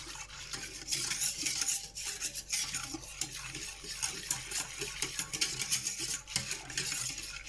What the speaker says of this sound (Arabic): كون المايزينا تخلط مليح الدوبلنا وما تقعدناش لتحت على الاسفل